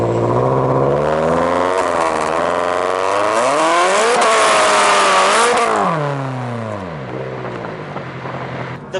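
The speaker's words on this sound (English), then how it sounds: "All the sounds you hear from the turbo," A turbocharged FRS car engine revs up and back down, its pitch sweeping high with a whirring turbo and raspy exhaust before it settles to a lower, quieter run.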